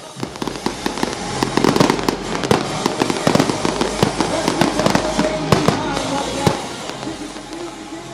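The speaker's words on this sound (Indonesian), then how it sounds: "pesta kembang api spektakuler menyambut pergantian tahun 2024" A spectacular New Year's 2024 fireworks display at Garuda Wisnu Kencana Cultural Park in Bali bursts in dense, continuous crackling and popping volleys with sharp reports throughout, loud and sustained.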